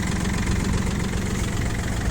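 Tractor with a front loader and reverser, 773 engine hours, idling evenly up close, a loud steady low diesel rumble with a fast regular knock and no voices.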